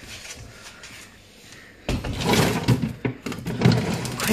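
A deep bottom drawer of a Samsung RSG5MUBP1 American fridge freezer slides with a rolling, rattling scrape that starts suddenly partway through after a quiet stretch, then continues in uneven bursts.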